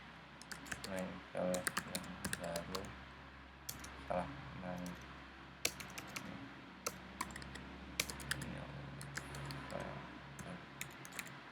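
Someone types quickly on a computer keyboard at a Linux terminal, with close, uneven clicks and clusters of keystrokes, while a voice speaks now and then behind the typing.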